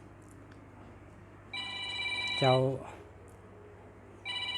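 A telephone rings with a burst of electronic harmonic tones that rise to a brief louder peak, then fade and start again near the end, set against steady low hum with a short word spoken briefly over it.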